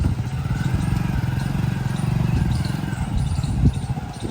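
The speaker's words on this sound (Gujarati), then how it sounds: "બાઇક ચાલુ કર દો" A motorcycle engine running steadily at close range for a slow bike challenge in a Gujarati village setting, a continuous low rumble with some clatter and a brief louder burst near the end.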